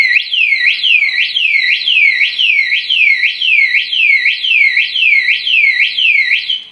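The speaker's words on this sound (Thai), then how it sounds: "ถ้ามีใครมาขยับรถนะครับ ครั้งแรกมันจะส่งสัญญาณบอกนะครับ" A loud electronic siren from a Yamaha NMAX 155 (2020) motorcycle anti-theft alarm sweeps up and down rapidly and steadily, repeating about twice a second without pause, close by and alone.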